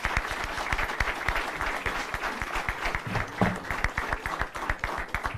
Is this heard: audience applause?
yes